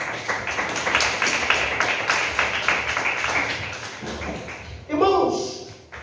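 Church congregation clapping hands in steady rhythm, a dense, continuous patter of many palms filling the room, then a brief louder burst of voices and movement near the end.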